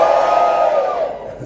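A live tech-event audience in the downstairs section roars and whoops, a dense crowd cheer that holds loud for about a second before tapering off.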